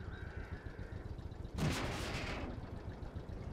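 A single heavy cannon shot from a tank in World of Tanks, a loud broadband blast about midway that rings out into a long rumbling tail over steady low engine noise.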